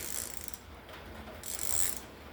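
Pittsburgh 3/8-inch ratchet with very little back drag, a detent and no lock, worked by hand: a soft, steady mechanical whirring click close up, swelling and easing in two passes with no talking.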